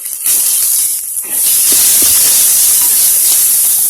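Chopped onion frying in hot oil with mustard seeds, cumin and curry leaves: a loud continuous sizzling hiss that drops briefly and then surges back, close to the pan, with no talk.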